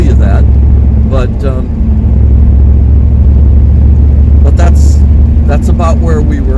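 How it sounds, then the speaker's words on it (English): A 305 Camaro V8 accelerates, its deep, loud engine rumble droning steadily from inside the car while someone talks over it. "I'm going to go accelerate away here"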